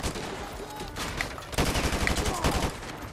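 Gunfire from Modern Warfare 2 Remastered arrives in bursts, with scattered shots giving way to a denser, rapid volley in the second half, loud and close over game ambience.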